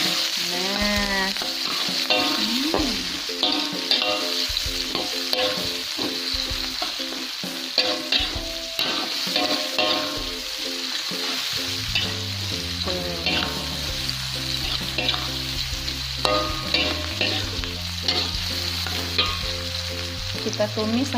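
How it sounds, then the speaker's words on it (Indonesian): Shallots, garlic, chili and lemongrass sizzle steadily in hot oil in a pan, with frequent scraping stirs clattering over the constant frying, close and loud while music plays underneath. "ada bawang merah, bawang putih, cabai, terus apa tuh, serai. Kita goreng bersama."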